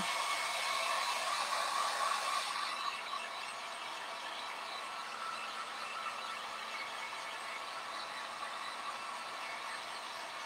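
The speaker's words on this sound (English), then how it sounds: "So I'm just drying it with my heat gun." A heat gun blowing hot air to dry a coat of paint on a toy truck, a steady close whirring hiss with a high whine, slightly louder at first then holding even, with no talking.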